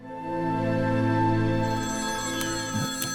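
A loud, sustained electronic phone ringtone plays with steady tonal notes, continuing without any talk.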